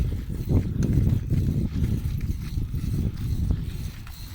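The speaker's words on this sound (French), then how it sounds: "Les chevaux ils montent ici." Racehorses climbing an uphill stretch of track near the starting stalls give off a muffled, irregular patter of hooves over several seconds, mixed with rustling noise at a moderate distance.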